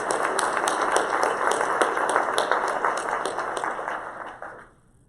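A room of guests at a children's advocacy luncheon breaks into sustained applause, steady dense clapping that holds for several seconds before tapering off abruptly near the end.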